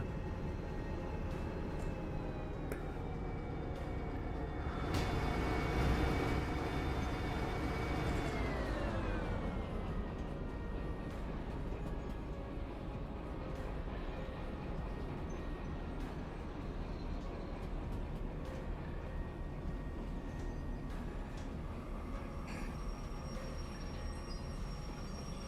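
A big diesel locomotive in the Derail Valley game rumbles steadily as it backs a train into a rail yard, with a continuous engine drone that swells briefly then settles into a lower, even hum throughout.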